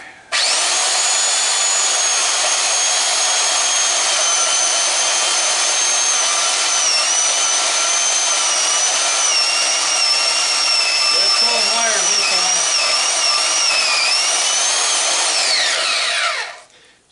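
A power saw fitted with a fine 24 teeth-per-inch blade cuts into an electric motor stator, a loud, continuous high whine with wavering pitch that runs for about sixteen seconds before winding down, with no talk.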